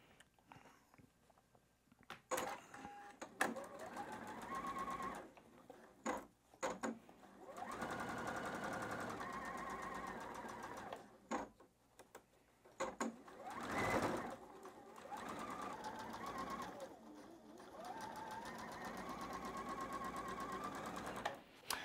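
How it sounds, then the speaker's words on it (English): A sewing machine stitching the seams of a quilt block in Michael Miller fabrics, running in several steady bursts of rapid close-up whirring separated by brief stops and fabric handling. "Now I'm gonna go ahead and just begin stitching this"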